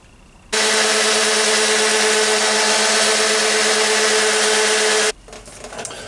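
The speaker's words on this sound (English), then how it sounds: "So I'm gonna sand it down a bit to shave it," A power sander grinds down a piece of clutch material for a Tomos A35 moped engine. It makes a loud, steady whir that starts abruptly and cuts off about four and a half seconds later.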